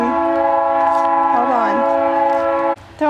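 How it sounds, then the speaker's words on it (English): A train horn sounds in the distance, holding several steady tones for most of the clip with a brief pitch bend midway, set against road traffic near an outdoor container vegetable garden; it cuts off near the end. "Excuse the noise. There's a train in the distance"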